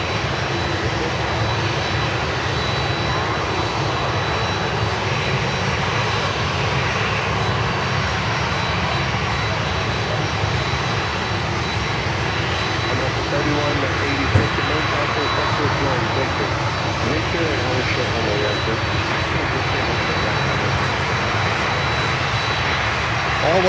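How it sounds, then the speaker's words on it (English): Jet turbine engines of airliners such as a Boeing 737 MAX 8 and Lufthansa 747-8 near an airport, a loud continuous roar and whine holding steady throughout. "All what I can hear here is turbine sound, engine sound."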